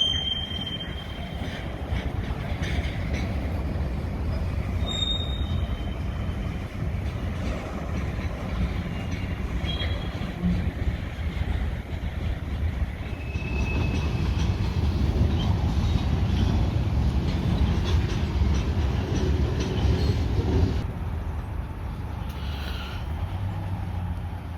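A freight train rolls past a trackside spot in the Chicago area, heard as a continuous low rumble of wagons with scattered high metallic wheel squeals and clicks, swelling louder toward the end before easing off.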